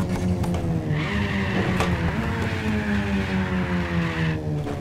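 Mazda RX7 in a drag racing video game, its engine holding a steady loud drone with rising gear-change steps and a tire squeal laid over it, no voices.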